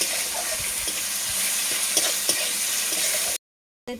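Panch phoron five-spice hits hot oil with chopped onion in a pan, a steady close sizzle with a few small clicks, stopping abruptly before a brief return.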